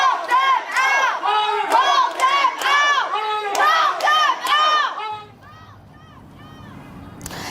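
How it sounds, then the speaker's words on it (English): At a city council meeting, a crowd chants and yells angrily in loud, rhythmic unison, many voices together for several seconds before fading into quieter room murmur. "People yelled things like "vote them out" and "shame on you""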